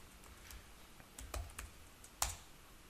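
Someone types on a computer keyboard, producing a handful of soft, irregular key clicks that are faint and close, with no talking.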